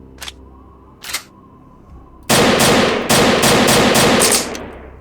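In STALKER: Lost Alpha, a newly found gun is test-fired: two faint clicks, then a loud, rapid burst of automatic fire lasting about two seconds with a brief pause partway through.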